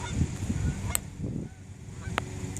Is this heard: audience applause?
no